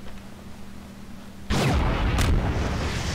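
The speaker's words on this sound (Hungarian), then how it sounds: "Ja, egy kurva nagy robbanás lesz" A huge orbital strike explosion in Garry's Mod erupts suddenly after a quiet hum, a loud broadband blast that keeps rumbling, with a second burst near the end.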